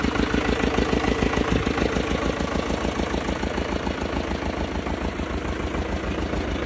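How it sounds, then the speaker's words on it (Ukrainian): A Xingtai 220 tractor engine idles steadily and close by, with a low, even chugging pulse that runs unbroken from start to finish with no voices over it. "Моторчик не димить, не сапонить, тиск тримає."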